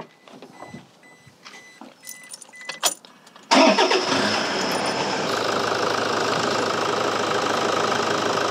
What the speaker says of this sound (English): let's start up the engine again